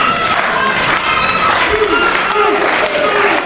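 Wrestling event crowd cheering and applauding, a steady loud roar of clapping and voices with commentators talking over it.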